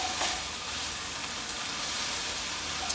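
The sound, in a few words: vegetables sauteing in a pan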